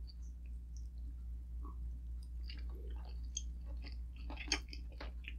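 Soft, moist chewing of a big, tender piece of pork from Filipino sinigang baboy, with quiet irregular bites close to the mouth over a low steady hum, no talking.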